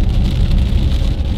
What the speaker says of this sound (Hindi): तो भैया बाहर आ गई है बारिश जबरदस्त वाली